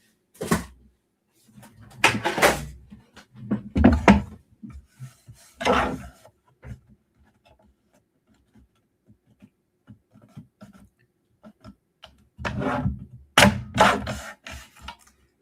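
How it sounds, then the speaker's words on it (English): A paper trimmer cuts card in several short bursts of scraping and sliding, close and fairly loud, separated by quiet pauses and small clicks. "Gotta get that nasty trimmer out again."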